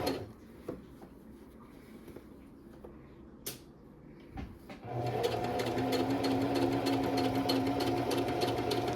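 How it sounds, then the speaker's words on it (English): A sewing machine stitches kimono fabric: a few quiet taps and handling knocks, then from midway a steady loud whirring run as the machine back-stitches and continues sewing. "and then I'm gonna back stitch and then continue stitching slowly."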